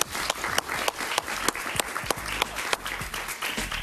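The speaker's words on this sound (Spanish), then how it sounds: "Un aplauso para él" Studio audience applause on a Spanish-language talk show, a steady wash of clapping with a few sharp louder claps standing out, fairly close and continuous.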